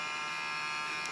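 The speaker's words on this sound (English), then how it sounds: "I think that's the color wheel, because if you stop the fan, it doesn't go away." Steady electrical buzz with a faint whine from inside a DLP rear projection TV, probably its color wheel, sounding continuous and moderately quiet with no talk over it.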